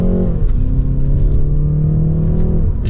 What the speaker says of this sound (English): you can hear that exhaust get a little bit louder when you put it into sport mode